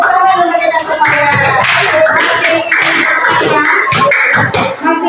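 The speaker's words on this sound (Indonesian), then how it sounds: "Tepuk tangan untuk kita semuanya." Clapping in an on-the-job training session, a burst of rapid hand claps running across the clip and mixed with music or voices.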